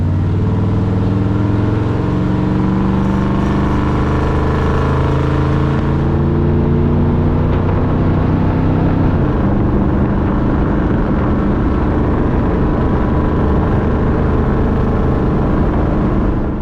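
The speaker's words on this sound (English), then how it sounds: "We got tire noise and wind noise and all those other noises, but exhaust noise, so much better" A rat rod car engine with a 4-inch scrap metal exhaust drones loudly and steadily from close by, its note rising through the gears with shifts and climbs, alongside road and wind noise.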